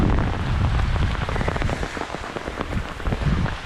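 Heavy rain pours down steadily, a dense, loud, close patter with crackling drops hitting nearby surfaces and no pauses throughout.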